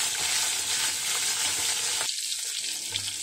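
Hilsa fish frying in about 50 grams of hot mustard oil, a steady, bright sizzle and crackle filling the pan, briefly dipping partway through before the hiss resumes.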